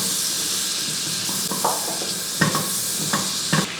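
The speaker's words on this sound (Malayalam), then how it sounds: "ഇനി ഒന്ന് ഇളക്കി ആദ്യമേ തന്നെ നമുക്ക് ഈ ഉള്ളിയൊക്കെ ഒന്ന് വഴറ്റിയെടുക്കും." Onions with curry leaves sauté in a hot pan with a steady loud sizzle, while a spoon scrapes through them in several distinct strokes during the second half.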